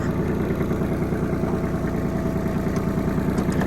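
The engine of a Kubota GT21 compact tractor drones steadily and loudly while driving through snow, a constant close rumble with no pause and no voices.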